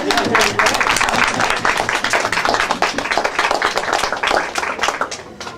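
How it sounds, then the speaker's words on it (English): A crowd at a steampunk performance event in a library claps steadily, individual hand claps distinct within the dense applause, with some voices mixed underneath as it slowly tapers near the end. "I think we should give him a round of applause for showing up."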